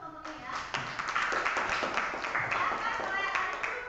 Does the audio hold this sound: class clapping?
yes